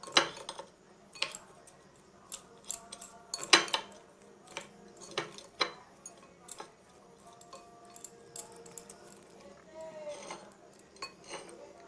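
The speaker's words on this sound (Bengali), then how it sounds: "এবার এটা ভালোভাবে মেশাতে হবে।" A spoon mixing aloo kabli in a bowl, a run of sharp close clinks and scrapes of metal against the dish in an irregular rhythm, with quieter gaps between strokes.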